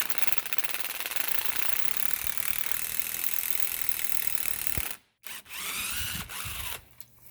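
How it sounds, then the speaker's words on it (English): A power tool drives an M10 x 1.25 thread tap into a hole on a 2005 Subaru Legacy GT during a lower ball joint replacement, with loud continuous ratcheting whir that cuts out near the end, then brief bursts of tool noise. "Now we're gonna go ahead and tap this hole to make sure there's no dust and shit there."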